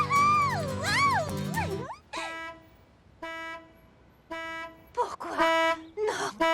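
Cartoon car horn honking, several bright toots in separate bursts after an opening stretch of wavering, singing-like tones, loud and close with brief gaps between honks.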